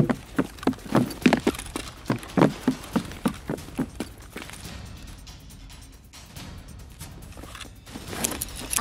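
Footsteps in the shooter game Escape from Tarkov, a steady rhythmic series of hard steps close by, fading after a few seconds into quieter ambient noise with a faint shuffle near the end.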